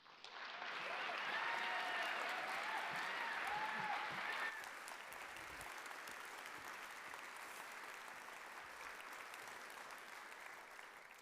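Sustained audience applause greets a lecture speaker coming to the stage at an evening faculty lecture. It swells loudly for the first few seconds, then eases into steadier, softer clapping that continues to the end with no talking.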